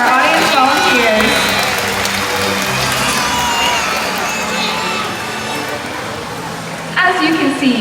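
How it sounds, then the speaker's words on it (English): Audience applause and crowd noise at a SeaWorld orca show in 2023, a steady wash of clapping and cheering from a large outdoor crowd that holds throughout, with a brief louder swell near the end. "Let's give a round of applause for our audience volunteers"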